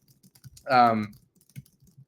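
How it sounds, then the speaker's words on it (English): Sparse, faint computer keyboard clicks tap close by, interrupted midway by a short voiced sound. "as I'm typing things"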